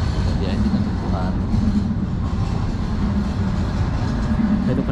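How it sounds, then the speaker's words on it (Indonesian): A train rolls past at night near Hagia Sophia in Istanbul, a steady rumbling clatter of wheels close by that holds level throughout, with faint distant voices mixed in. "Itu kereta tuh."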